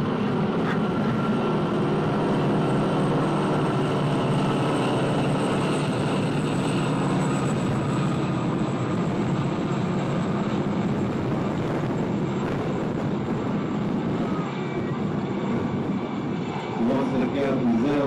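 Aircraft engines drone and roar overhead at an airshow in Ayr, Scotland, a continuous, loud and broad engine sound that holds steady throughout while a voice talks over it.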